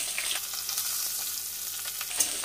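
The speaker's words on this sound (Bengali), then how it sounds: "রসুন আর কাঁচা লঙ্কাগুলোও দিয়ে দিচ্ছি।" Garlic and green chillies fry in hot oil with five-spice seeds, a continuous bright sizzle and crackle with a few louder spits near the end.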